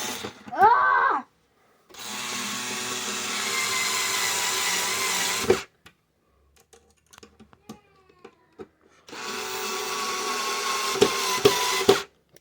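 Power drill boring holes to mount a mini smoke detector, two sustained whirring bursts of several seconds each, close and loud, separated by quiet handling noises, with a brief voice at the start.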